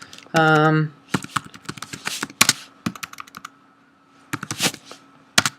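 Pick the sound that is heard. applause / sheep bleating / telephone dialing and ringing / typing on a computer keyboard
typing on a computer keyboard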